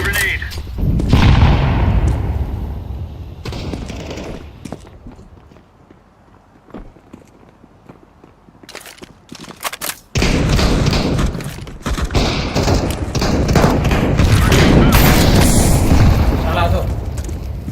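Heavy thuds and booming blasts from a grenade and gunfire in a multiplayer video game, loud and close, with a quieter stretch midway before a dense roar of explosions and shots returns.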